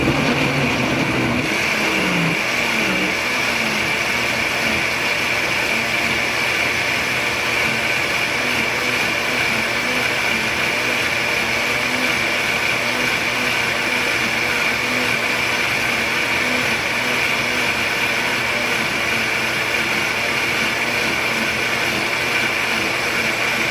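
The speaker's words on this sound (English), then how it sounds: "I'm just gonna blend now." An electric blender runs continuously, blending a green vegetable and fruit detox drink, a steady loud motor whine with a brief change near the start and then constant churning, no talk.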